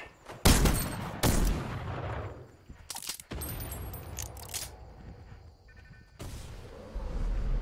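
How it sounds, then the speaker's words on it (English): Gunshots in the Fortnite battle royale game, several loud sharp bursts of gunfire at irregular intervals, some close and heavy, separated by quieter stretches of game ambience. "Oh, there's a guy over here shooting."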